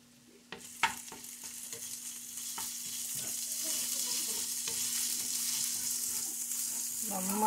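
Crushed ginger and garlic hitting hot oil in a pan, with a few sharp clinks of stirring before a steady sizzle swells and holds.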